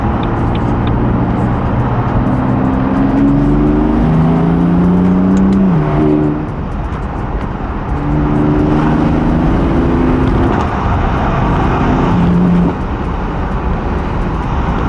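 A BMW F82 M4 engine with a VRSF front-mount aftermarket intake revs loudly and repeatedly, rising and falling in pitch with a strong intake roar, close by and with no talking.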